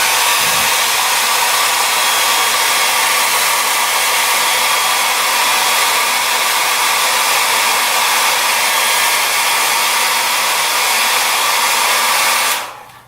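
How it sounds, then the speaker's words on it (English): A hair dryer blows steadily on acrylic paint on a canvas, one loud continuous roar lasting about twelve seconds before it switches off, with no talking. "And then I'm going to blow dry this to see how it looks."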